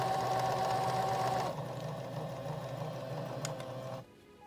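A household sewing machine runs during repair of its inner bobbin case, a steady close mechanical whir that drops to a lower hum partway through before stopping, with a faint click near the end.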